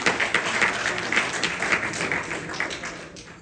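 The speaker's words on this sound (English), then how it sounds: "Let's give our Vyasji today a huge round of applause." An audience at a Hindu yagna in a mandir bursts into warm applause, many hands clapping together in a full, steady burst that fades slightly toward the end.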